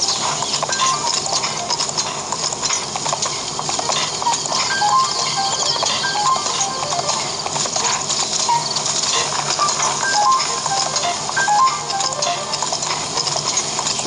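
Horse hooves clip-clop steadily across the ground in The Legend of Zelda: Breath of the Wild, a continuous rhythmic gallop at moderate volume over an ambient game backdrop with no talking.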